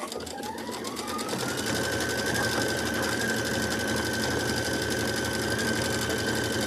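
A sewing machine runs a quilting stitch on a filler block, starting up, then humming in a fast, even, continuous rhythm at close range.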